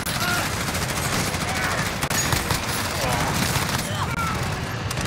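Rapid continuous gunfire from a Modern Warfare match, a dense loud fusillade of shots with rounds striking a riot shield, running steadily throughout under intermittent voice.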